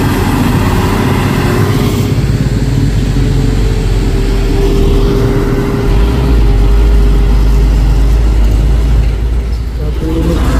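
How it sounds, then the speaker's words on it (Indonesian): A box truck drives past on a hilly road, its loud, steady diesel rumble swelling in the low end midway through, with continuous road and traffic noise. "Satu unit truk box"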